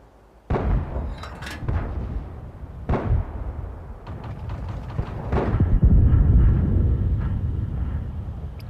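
An STRV M-41 tank cannon in World of Tanks fires a booming shot, followed by a few more heavy blasts and thumps over rumbling battle noise.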